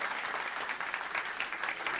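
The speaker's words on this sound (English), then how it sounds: "Give yourselves a round of applause." A live audience at a Radiolab stage show breaks into applause, a continuous even patter of many hands at moderate, slightly distant level, holding steady without talk.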